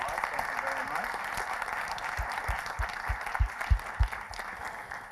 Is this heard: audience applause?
yes